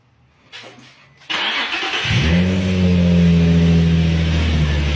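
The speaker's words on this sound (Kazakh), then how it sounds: "Өшіріп оталдыршы тағы, повторный запуск көрейікші" An Infiniti G35 with a starting fault is restarted: a few faint clicks, a sharp starter crank, then the engine catches and settles into a loud, steady idle close by.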